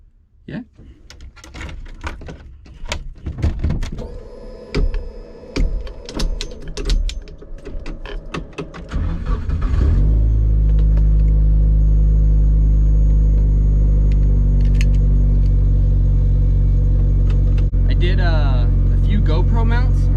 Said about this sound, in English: let's start this journey in my 1983 Corolla wagon